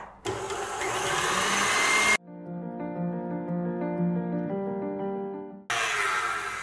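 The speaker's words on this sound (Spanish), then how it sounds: "Tengo aquí crema para batir y la voy a batir hasta esponjar." An electric mixer whips cream in a loud, steady motor whir, in two bursts separated by a stretch of soft background music.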